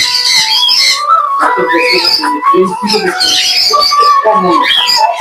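Several pet parrots squawk and whistle loudly and continuously up close, shrill overlapping calls filling the space.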